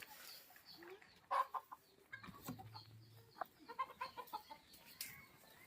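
Desi chickens cluck softly and intermittently nearby at a chicken house, a few scattered calls against a quiet background.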